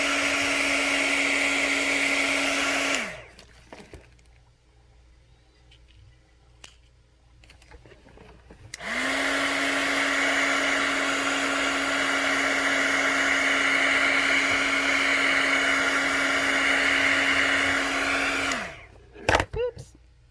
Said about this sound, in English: And now I'm going to dry it.